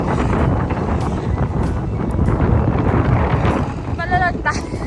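Strong wind buffets the microphone outdoors near Berlin Cathedral, a loud continuous low rumble throughout, with a brief voice sound near the end.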